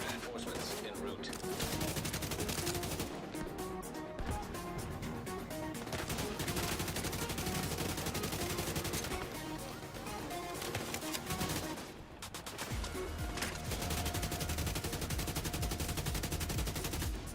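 Sustained AK rifle gunfire in The Division 2 video game, dense and continuous over a busy mix of combat noise, with brief lulls around the fourth and twelfth seconds and speech now and then.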